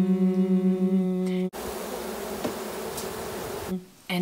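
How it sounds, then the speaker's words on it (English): A steady, even buzzing hum of a calm honeybee colony, close and continuous, with a low drone that shifts into a denser, busier texture partway through. "So this is how a happy colony sounds."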